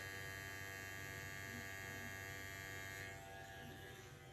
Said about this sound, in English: when you turn your pen on and you remove the little cap so your needles are exposed, these needles are going up and down really,